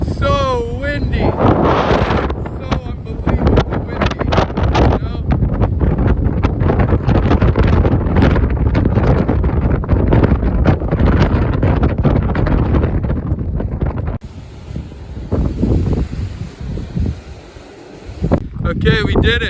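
Strong wind on a clifftop at Ram's Head, St John, batters the microphone with a loud, continuous roaring rumble that eases briefly near the end.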